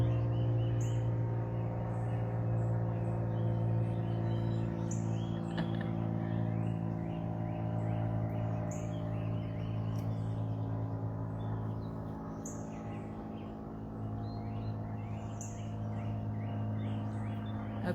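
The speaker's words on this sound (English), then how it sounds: "Hope you can hear my birds singing in the background." Songbirds chirp outdoors on a spring morning, with scattered short calls that sound faint and somewhat distant over a steady low background hum. No one speaks.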